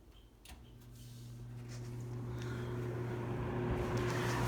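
A Superlectric 2083 three-speed box fan with a metal motor running on high speed, a steady whooshing hum with low motor tones that swells slightly as it spins up.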